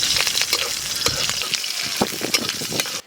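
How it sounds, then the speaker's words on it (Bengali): Radhuni seeds, bay leaf and slit green chilli crackle in hot mustard oil, a loud, steady close-up sizzle with sharp popping spits throughout, cutting off abruptly at the end. "গরম তেলে ফোড়নের জন্য আমি রাঁধুনি দেব।"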